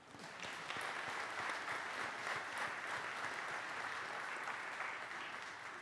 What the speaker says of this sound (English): worthy of yet another round of applause.